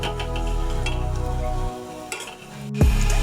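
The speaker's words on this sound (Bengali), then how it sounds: "এখন বড়াগুলো ভেজে নেব।" Cauliflower fritters fry in hot mustard oil with a steady, close sizzle and bubbling, broken by spatula scrapes against the pan and a brief clatter near the end.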